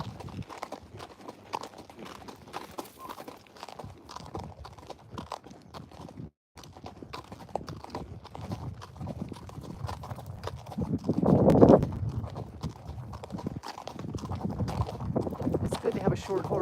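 Horse hooves clip-clop steadily along a wooded trail on a short horse about 14.3 hands, a mare named Ziva, the footfalls fairly close amid rustling and a louder crunchy patch midway, with occasional talk.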